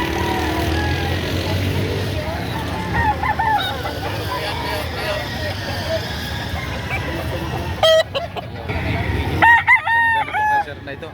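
A Red Kelso gamecock rooster crows loudly and close in the busy setting of a chicken market in Padre Garcia, Batangas. Murmuring voices and noise fill the background before the crowing comes through clearly near the end.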